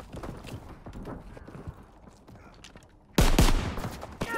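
Video game gunfire comes as a rapid, jumbled rattle of shots under steady background noise, then one loud close blast near the end.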